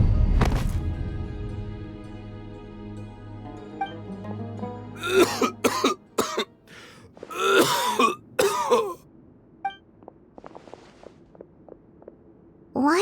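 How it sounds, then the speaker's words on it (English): A game character coughs and clears his throat in a run of harsh, close bursts after a low rumble opens the scene, the fits coming in irregular clusters before trailing off into quiet. "Why is he coughing so much?"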